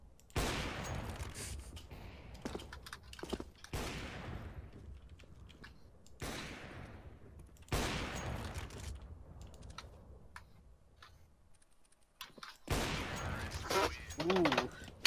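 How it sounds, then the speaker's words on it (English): Rapid bursts of video game gunfire crackle in several sharp clusters across the stretch, loud and close, with brief quieter gaps between volleys. "so many shots just got fired at that"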